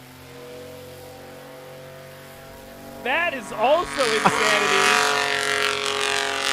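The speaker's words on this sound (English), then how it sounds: "You can hear the absolute growl of that beast of a plane" A STOL airplane's engine hums low, then swells into a loud growl as it roars off on a short takeoff at the Appalachian Mountain STOL competition, with someone talking over it.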